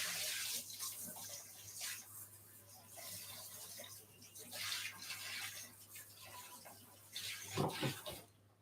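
Tap water runs into a kitchen sink while baking dishes are washed up, a steady rushing splash with clatter and brief surges near the end.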